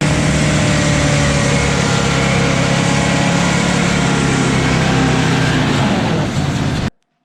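Abandoned 1976 GMC C15 squarebody pickup engine held at high revs, bouncing off valve float, a loud, steady, strained roar lasting about seven seconds before cutting off abruptly.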